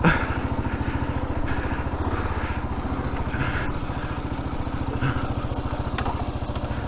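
Kawasaki KLR650 engine working off-road on a tight, steep trail, a close, steady low chugging putter at modest revs that holds an even rhythm throughout.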